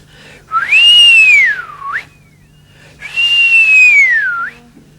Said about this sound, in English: A swanee whistle.